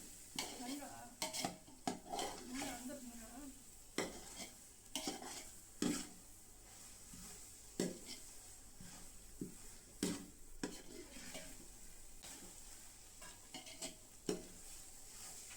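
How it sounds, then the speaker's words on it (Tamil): Bottle gourd sweet mixture stirred in a pan for a homemade sweet, with repeated scraping and clinking strokes of a spoon against the metal under a soft steady sizzle, close and moderately quiet, without talk. "அடி பிடிக்காமல் பார்த்து மிக்ஸ் பண்ணிகிட்டே இருக்கணும்."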